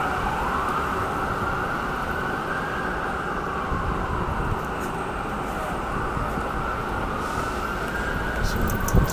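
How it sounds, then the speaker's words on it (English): An ambulance siren with a police escort wails in sweeping rising and falling tones through a New York City street, loud and sustained over traffic rumble, with a few sharper blips near the end. "To have a police escort like that for an ambulance?"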